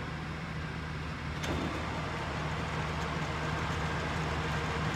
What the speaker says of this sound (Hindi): इसमें जो टेल स्टॉक है और जो हेड है वो साथ चल सकते हैं। चलाओ, रैपिड में चला दो।